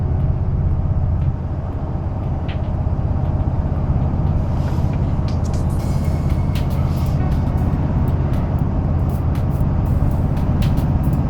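Cabin of a 2024 Toyota Tundra TRD Pro truck cruising at 71 mph on a windy day, a steady loud low road and engine rumble with wind noise and brief rattles, no clear talk.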